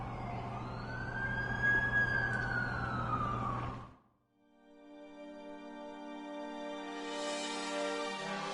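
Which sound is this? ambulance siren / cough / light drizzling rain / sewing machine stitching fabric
ambulance siren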